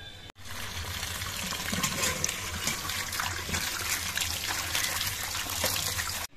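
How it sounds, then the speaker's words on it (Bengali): Tender jute leaf greens washed under running water, a continuous close splashing rush that holds steady for several seconds before cutting off abruptly. "এবার এই শাকগুলো ধুয়ে পরিষ্কার করে নিতে হবে।"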